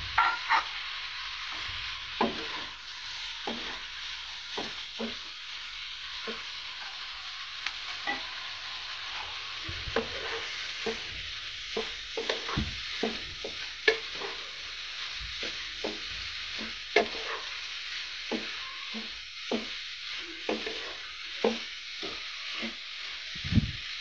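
Pieces of hilsa fish fry in a pan with a steady, close sizzle, broken by repeated scraping knocks of stirring throughout, with no voices.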